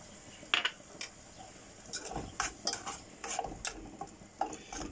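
A tiny cooking pan for beans is handled in a home kitchen, with scattered close metallic clinks and taps at irregular intervals over a quiet background.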